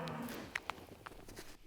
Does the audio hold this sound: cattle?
yes